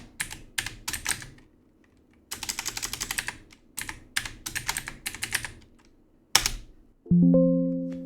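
Typing on a computer keyboard into an IRC-style chat client, quick clusters of crisp key clicks with brief gaps, ending in a short electronic chime.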